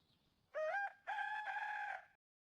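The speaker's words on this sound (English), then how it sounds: "A rooster crows loudly in the morning." A rooster crows loudly and nearby, a clear two-part cock-a-doodle-doo call with a short first note and a long, held second note, heard alone against a quiet background.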